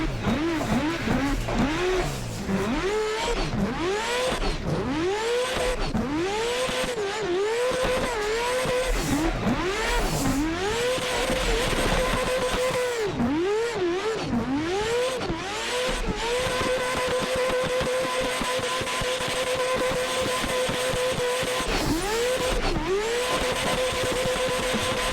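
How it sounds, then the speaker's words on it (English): A rotary-swapped McLaren drift car in Assetto Corsa screams through repeated rev swells and gear changes while its tires squeal in long slides, loud and continuous with no talking. "There she is, the MADMAC McLaren drift build, the Rotary McLaren build."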